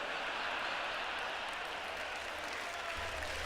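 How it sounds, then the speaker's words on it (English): Steady, faint crowd applause holds at an even level throughout, soft and diffuse like a distant audience clapping for a joke. "That gets an applause, that joke."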